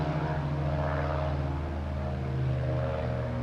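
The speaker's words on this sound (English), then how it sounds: "Looks like we got an airplane taking off there." Propeller airplane taking off from an airfield on a lesson flight, a steady loud droning engine and airscrew hum with a low rumble that holds constant throughout, fairly close, no voices.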